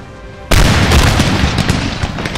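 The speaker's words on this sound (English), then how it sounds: "the line infantry units, they do actually fire in line, or they fire in rank, fire by rank" Line infantry firing volleys by rank in Napoleon: Total War, a dense roar of musket fire that erupts abruptly after a short quiet lead-in and keeps going as a loud, continuous crackling barrage.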